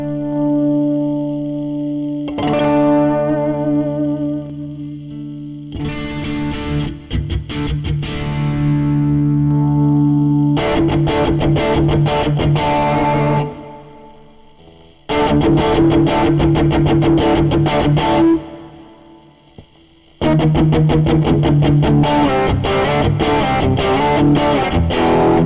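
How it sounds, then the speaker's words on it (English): Distorted electric guitar run through the drive effect of an Axe-FX III, heard as a series of loud, buzzy strummed chords and short riffs separated by brief gaps, with no talking. "It's kind of changing the shape of the distortion, the way it looks on the time domain graph."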